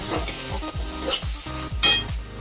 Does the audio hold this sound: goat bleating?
no